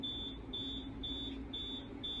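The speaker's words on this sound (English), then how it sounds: "They always have obnoxiously long startup sounds." Repeated electronic beeps from a roller coaster control panel starting up in the NoLimits 2 simulator, five evenly spaced high tones about half a second apart, steady and fairly loud over a constant low hum.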